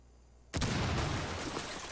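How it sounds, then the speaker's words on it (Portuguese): A sudden loud explosion erupts in the Rainbow Six video game, a sharp broadband blast followed by a sustained roaring rumble that holds for over a second. "Teve uma explosão, nada muito grave."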